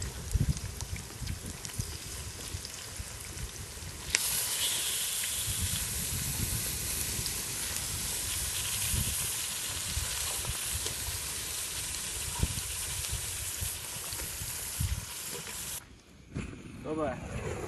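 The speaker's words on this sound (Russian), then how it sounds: "Выкладываем мясо." Raw meat laid onto a hot grill over a freshly lit fire outdoors, giving a steady broadband sizzle and hiss that runs throughout, with occasional clatter and people talking in the background.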